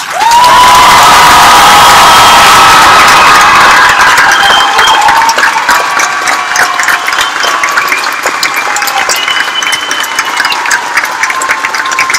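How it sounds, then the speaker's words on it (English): A large graduation audience at Coastal Bend College bursts into loud cheering and applause for the graduates, with shouts and whoops over dense clapping that stays strong before easing slightly toward the end. "Graduates, please turn, face the audience, and receive applause from your friends and family."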